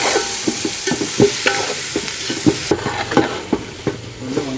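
A spice paste fries in oil with brinjals while a ladle scrapes and stirs the pan in regular knocks over a constant sizzle.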